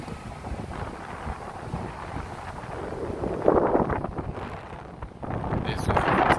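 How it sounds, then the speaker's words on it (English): Wind buffets the microphone on the eighth-floor outdoor rooftop of the Whitney Museum in New York City, a steady roar rising into stronger gusts toward the end. "Most likely it's windy as we are on the very top of the museum."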